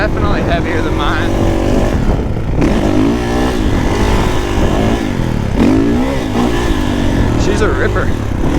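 A Kawasaki KX450 dirt bike is ridden, its engine droning and rising and falling steadily throughout, with a rider talking over the motor.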